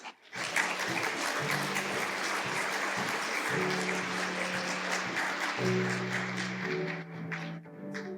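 An audience at a partnership conference in Vancouver applauds to welcome a speaker, a dense, sustained clapping crowd filling the room, with a low tone humming underneath and no talk.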